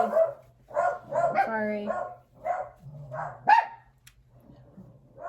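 Several dogs bark in short repeated bursts, with yips and a brief whimper, fairly close, while a person speaks softly between and over the barks.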